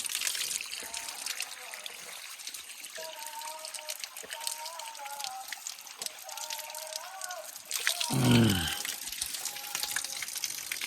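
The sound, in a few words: water trickling from a forest spring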